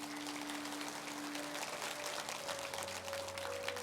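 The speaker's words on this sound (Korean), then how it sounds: "우리 큰 박수로 축하해 주시기 바랍니다." A church congregation applauds to congratulate its senior pastor, a dense, steady wash of clapping that continues evenly while sustained organ-like tones sound underneath.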